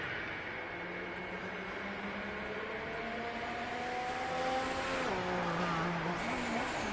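Formula 1 car in a racing video game lapping Stowe corner at the British Grand Prix, a steady engine whine rising and falling through gear changes, with a brief pitch drop as it brakes near the end.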